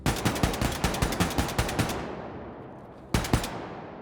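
Rapid automatic gunfire in Wolfenstein 2, a fast string of about a dozen loud shots, then a pause and a short second burst.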